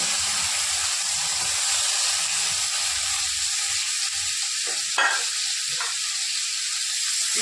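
Sliced bitter gourd fries in hot oil with five-spice seeds in a pan, producing a continuous even sizzling hiss with a couple of brief sharper bursts near the end.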